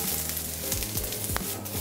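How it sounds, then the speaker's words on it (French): Aubergines sizzle loudly in olive oil in a frying pan, a dense, close crackling hiss with a few scraping stirs. "Nous allons prendre une poêle, verser un filet d'huile d'olive et commencer à cuire nos légumes séparément"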